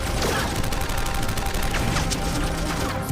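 Rapid bursts of gunfire in a film scene set underground after the Earth has gone flat, dense crackling shots piling into one loud continuous fusillade.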